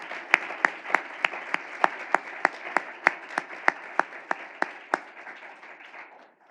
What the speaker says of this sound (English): Please join me in another round of applause for our wonderful Mission Possible winners.